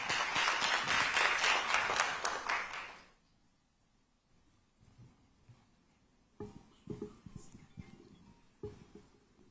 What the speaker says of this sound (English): Ladies and gentlemen, please help me with a big round of applause.